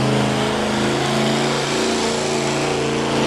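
A pulling truck at a truck and tractor pull accelerates hard off the line down the track, a loud, steady roaring engine held close and continuous with no talk.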